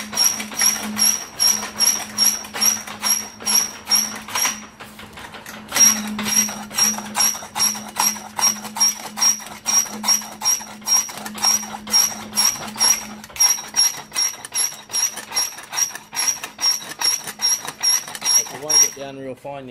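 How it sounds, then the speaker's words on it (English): Off-grid rock crusher grinds gold ore with a steady, rhythmic mechanical clatter and ratcheting, pausing briefly midway, loud and close; a voice speaks at the end. "What I'm doing here is I'm actually tightening this down while I'm crushing."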